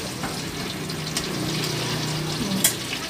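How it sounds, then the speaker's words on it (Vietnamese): Pot of sour pickled mustard greens soup with fish head at a rolling boil, continuous bubbling and gurgling at moderate level with a brief sharp clink near the end. "Canh dưa cải của mình sôi lên này nè, nó sôi lên bây giờ là đã ra nước chua rồi đó"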